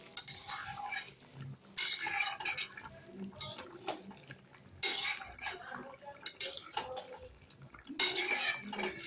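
Potato curry being stirred in a cooking pot after a pinch of sugar goes in, with scraping, clinking bursts of utensil against metal coming in a few separate spells, close and moderately loud between quieter gaps.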